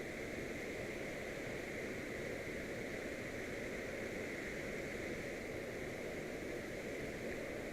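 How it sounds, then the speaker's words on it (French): A large mountain waterfall on a trout river roars in a steady, unbroken broadband rush that fills the scene from start to finish, with no voices over it. "Alors là on se trouve sur une méga cascade."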